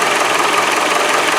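A car engine held steady at about 2000 RPM during a power steering check for fluid overflow, a loud continuous hum with a slight knocking texture and no voices.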